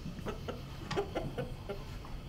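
Chickens clucking in a henhouse, a series of short, fairly close clucks spaced unevenly over steady background noise.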